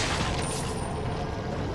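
Gunfire from the Resident Evil 4 video game, a critical headshot landing amid a dense, steady wash of game noise and ambience, loud and continuous with no clearly separated shot.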